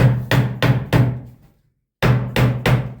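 A dead blow hammer taps a wooden door being shortened, with three sharp knocks in quick succession, a pause, then three more, loud and close with no talk.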